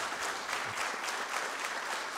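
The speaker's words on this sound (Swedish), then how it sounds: "Applåderna väl förtjänta." Steady applause from a concert crowd at a Tornedalen music club Christmas show, many hands clapping continuously and evenly at close range without a break.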